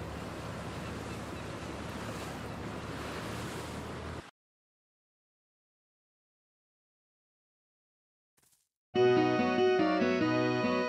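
Boat setting out over open sea in a Peppa Pig video game: a steady rush of surf and wind for about four seconds, then sudden silence, followed by bright game music.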